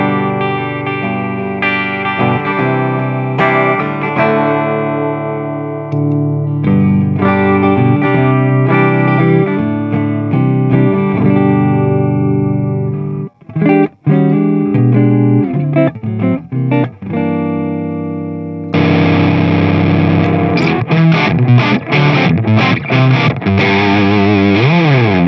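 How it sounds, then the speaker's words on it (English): Electric guitar heard first clean, then through a Boss FZ-5 fuzz pedal set to a Fuzz Face mode, moving from clear chords and single notes to thick, buzzing, saturated fuzz; played close and loud with no talking. "So a little flavour there of the fuzz and comparing it to the clean sound."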